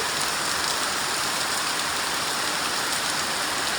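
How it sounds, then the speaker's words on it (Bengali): Heavy rain pours down in a dense, steady roar, constant and close throughout with no pauses. "সকালবেলা দেখো কি হারে বৃষ্টি শুরু হয়েছে"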